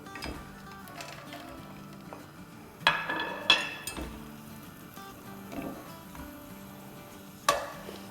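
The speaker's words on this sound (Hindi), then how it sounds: "तो इस पॉइंट पर हम डाल देंगे किशमिश को भी।" Raisins for kheer stirred and frying in a hot pan, a steady low sizzle with several sharp clinks and scrapes of a spoon against the pan.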